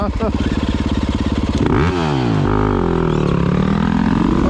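A motorcycle engine cranks and catches, its starter motor making a rising mechanical whine that sweeps up and down as it revs, loud and close.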